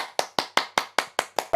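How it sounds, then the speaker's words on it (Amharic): A small group clapping in a home setting to welcome a woman into a community self-help association, eight sharp evenly spaced claps, fairly close and loud, with no talking. "አጨብጭቡ።"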